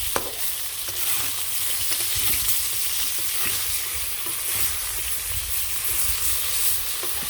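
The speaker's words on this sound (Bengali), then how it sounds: "মাছগুলো আমি উল্টে পাল্টিয়ে ভেজে নিলাম।" Katla fish pieces fry in a pan with a steady, close sizzle and crackle of hot oil, broken now and then by soft scraping as the pieces are stirred and turned, with no voices.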